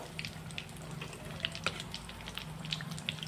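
Food sizzles steadily in a hot pan while a spoon turns the pieces over, adding light clicks and taps above a continuous close frying hiss. No voices are heard.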